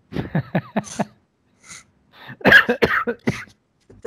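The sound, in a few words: coughing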